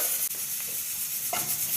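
Chopped onion and capsicum fry in a pan with a steady, close, bright sizzling hiss, broken by a brief scrape of stirring partway through.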